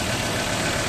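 A Ford 3.2 TDCi diesel engine in a 2016 Ford Ranger Wildtrak idles close by, a loud, steady clattering rumble with a knocking texture.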